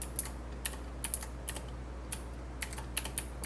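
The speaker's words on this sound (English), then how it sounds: "I can't type today" Computer keyboard typing, sharp scattered keystrokes in irregular bursts, fairly close and clear, with no talk over them.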